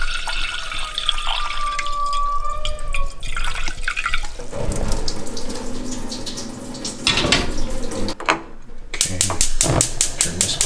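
Water runs from a kitchen tap and splashes into a container being filled for boiling, with clinks and clatter of kitchen handling, then the flow shifts and sputters.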